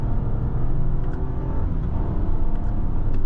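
A 2019 Audi Q8 3.0T Prestige Quattro accelerating smoothly, heard from inside the cabin as a steady, low engine rumble and road whir that swells slightly, continuous throughout with no talking.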